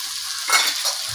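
Brinjal pieces sizzling steadily in a pan after vangibath spice powder and chilli powder are added, with a brief stir that swells the crackle before it settles back to a steady fry.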